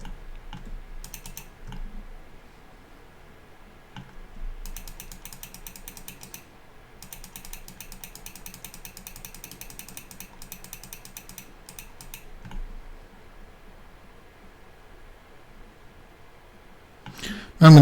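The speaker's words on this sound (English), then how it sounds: "as I'm left clicking and letting go" Computer mouse clicks come in quick repeated bursts, mixed with keyboard-like tapping, while the user holds shift and left-clicks during 3D modeling in Blender 3.3. The sound is close and quiet, with no talking.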